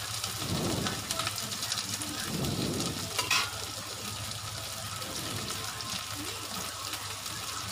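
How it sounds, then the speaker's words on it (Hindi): Slit green chillies fry in a pan, giving a steady sizzle with occasional stirring scrapes and a soft watery bubbling running through, fairly close with no talk. "अभी थोड़ी सी मैंने हरी मिर्ची भी डाल दी चीर के"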